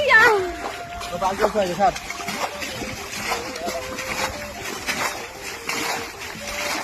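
People bailing pond water by hand to catch fish, with repeated splashes and sloshing water over a busy outdoor scene while several people talk and shout nearby.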